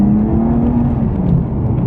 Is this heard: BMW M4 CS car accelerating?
yes